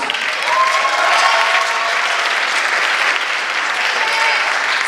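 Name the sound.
audience applause after a performance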